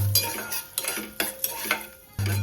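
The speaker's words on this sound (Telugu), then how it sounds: "కిస్మిస్ వేసి కిస్మిస్ పొంగిన దాకా వేయించు" Raisins stirred in a steel pan after cashews are removed, for payasam: close, irregular scrapes and clinks of a spoon against the metal over a faint sizzle, with no talking.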